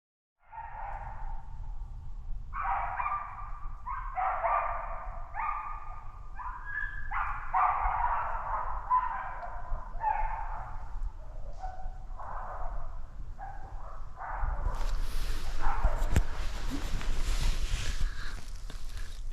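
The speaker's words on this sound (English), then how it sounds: "that sounded like 3 or 4 dogs fighting" Several dogs outdoors at a lake in winter bark and yelp in a string of uneven bursts at moderate distance, turning into a louder, more chaotic scuffle toward the end.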